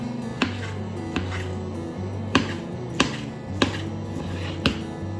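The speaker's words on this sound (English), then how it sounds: "So I'm chopping my mangoes quickly." A knife chops mangoes on a cutting board in six sharp, evenly spaced chops, each a crisp thud over a low steady hum.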